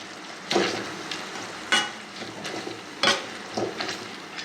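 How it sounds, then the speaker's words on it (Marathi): Soft cooked tomatoes for pav bhaji mashed with a masher in a pan, giving four or five wet squelching thumps at uneven intervals over a low sizzle, close and moderately loud, with no talking. "याला आपण मॅशरच्या सहाय्याने मॅश करून घेणार आहोत टॉमॅटोला"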